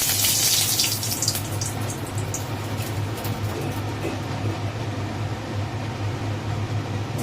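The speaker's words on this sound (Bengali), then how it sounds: "এবার মা তেজপাতা ফোড়ন দিচ্ছে" Bay leaves dropped into hot oil for tempering while preparing chana dal give off a steady, loud, hissing sizzle, strongest at the start and then settling into an even crackle from close by.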